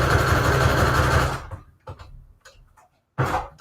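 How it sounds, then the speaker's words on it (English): A sewing machine runs steadily and loudly, stitching around a photo printed on cardstock for a junk journal collage, then stops abruptly and leaves a few quiet clicks and handling sounds before a short final burst. "So I'm just going to sew around this little photo, and everything's printed on cardstock."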